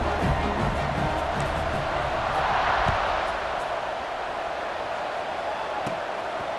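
Large stadium crowd at a college football game, Boise State, produces a steady broad roar that swells slightly mid-way, distant and continuous without distinct voices.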